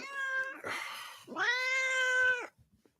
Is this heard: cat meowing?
yes